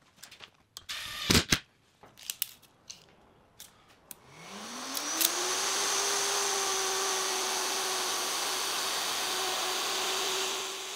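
A router fitted with a 12mm bit spins up and cuts a dado into 12mm plywood, starting after a few scattered knocks and clicks, then holding a loud, steady high whine to the end.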